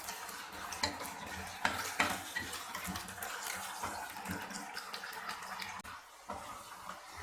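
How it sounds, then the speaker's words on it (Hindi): Taro root (arvi) fries in a pan toward light brown, a busy mix of light sizzling and frequent clinks and scrapes of a utensil against the pan, close and quiet, with no speech. "अब यहाँ पे मैं अरवी को इतना फ्राई करूँगी जिसमें कि ये लाइट ब्राउन हो जाए।"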